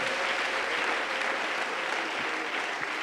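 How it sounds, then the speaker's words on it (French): A church congregation applauds and cheers loudly in a steady, dense wash of clapping that holds for the whole few seconds, with faint voices mixed into the crowd. "Nous l'acclamons très fort."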